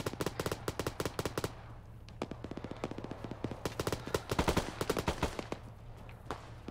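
Rapid bursts of video game gunfire, sharp repeated shots in quick volleys with brief pauses, close and loud throughout.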